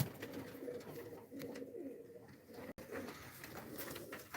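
Pigeons coo steadily in a tumbler pigeon loft, a continuous low murmur of overlapping calls close by with a brief gap midway.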